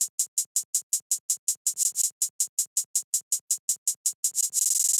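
Two-step hi-hat pattern in a trap-style beat: crisp, evenly spaced closed hi-hat ticks repeating rapidly and steadily, ending in a fast roll, clean and alone.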